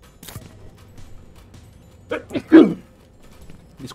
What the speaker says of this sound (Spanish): Disculpen, estornudé.